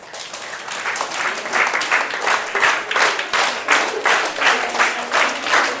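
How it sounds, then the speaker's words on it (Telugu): An audience of standing students claps hands together in a classroom, a dense sustained burst of applause that swells in rhythmic waves and continues loudly throughout. "Claps."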